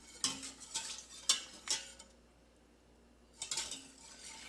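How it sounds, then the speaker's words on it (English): Potassium lye being stirred into liquid for homemade liquid soap, a series of quick scraping, clinking strokes of a utensil against the container, a short pause, then more stirring, close and fairly quiet. "It is important to stir it until each addition is pretty well dissolved."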